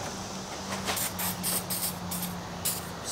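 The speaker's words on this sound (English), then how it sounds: "And let me get a spray." Several short hissing bursts of spray, close up, pulsing in quick succession over a quiet low hum.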